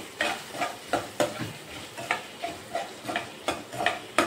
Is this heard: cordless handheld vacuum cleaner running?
no